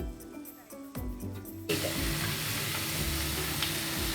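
Pearl spot fish (karimeen) cooking in a pan for Kuttanad-style pollichathu, with coconut milk poured over, starts with light clicks and scrapes, then breaks into a loud, continuous bubbling sizzle and hiss.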